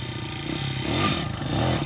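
A two-stroke Honda CRF80 dirt bike engine revs steadily and loudly at close range, holding a raspy throttle for about two seconds with a slight surge near the middle.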